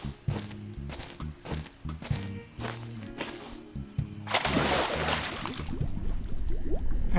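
A character dives into water in the video game Escape from Monkey Island: rhythmic clopping steps give way to a sustained rushing, bubbling wash of water that continues to the end.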